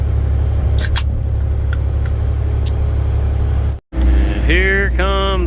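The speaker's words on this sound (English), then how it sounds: "Here comes my truck, the first one." A concrete delivery truck rolls in on a cold, windy winter day, its heavy diesel engine droning steadily; the sound cuts out briefly, then returns with brake squeal or hissing tones as the truck arrives nearby.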